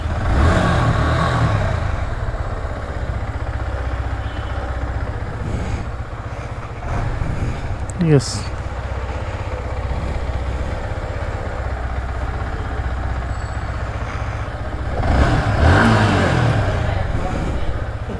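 A secondhand Yamaha R15 V3 motorcycle engine idles with a steady low rumble, then swells briefly as the throttle is revved near the end.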